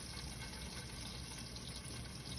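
Hot oil bubbling and sizzling steadily in a pan while a steak cooks at lowered heat, a continuous close hiss with no talk over it.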